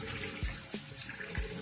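A kitchen tap runs steadily while potatoes are peeled beneath it, a continuous close splashing stream broken by a few soft knocks and clunks, with no talking.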